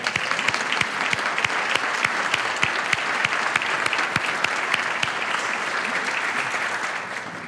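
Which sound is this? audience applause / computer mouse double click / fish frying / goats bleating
audience applause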